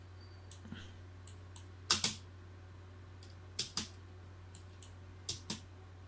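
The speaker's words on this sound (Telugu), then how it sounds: "ఈ ప్లేకి స్టాప్కి స్పేస్ బటన్ క్లిక్ చేస్తున్నాను, మీకు అదే సౌండ్స్ వస్తున్నాయి" Someone taps the space bar on a computer keyboard, producing sharp close clicks, several singles and some quick doubled presses at irregular intervals, faint and alone over a low steady hum.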